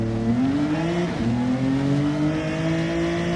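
A four-wheel-drive racing car engine in a video game race drones loudly at high revs, its pitch dipping briefly and then climbing steadily, with no voices over it.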